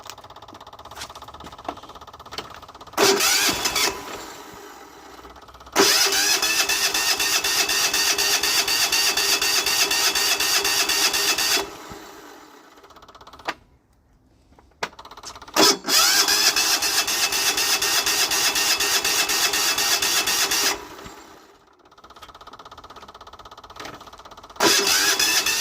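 Cub Cadet HDS turbo diesel engine cold-starting: bursts of cranking and catching, then two long stretches of loud, steady running, separated by brief cutouts and restarts, with no talking.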